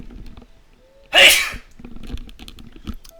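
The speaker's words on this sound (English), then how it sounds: "See, now that I sneeze, my eyes are dry." One loud, sharp sneeze bursts out up close, followed by quiet shuffling and small noises.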